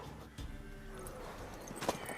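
A mare moves with clip-clop hoof sounds at close range, a loud thud near the start and a brief higher cry near the end, over steady background noise.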